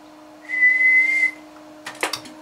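Steady audio test tone of about 400 Hz keyed through an Amp Supply LA-1000A sweep tube linear amplifier with four 6LQ6 (6MH6) tubes, a clear sustained whine lasting under a second, followed by brief clicks and rustle.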